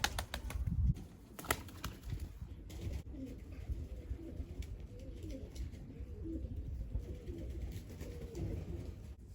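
Soft cooing of domestic Kama Paça Ala pigeons repeats throughout at moderate distance, with a few brief wing flutters and handling noises near the start.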